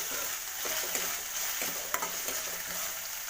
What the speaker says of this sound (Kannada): ಶುಂಠಿ ಬೆಳ್ಳುಳ್ಳಿ ಪೇಸ್ಟಿದ ಸ್ಮೆಲ್ ಹೋಗೋ ತನಕ ಫ್ರೈ ಮಾಡ್ಕೊತೀನಿ.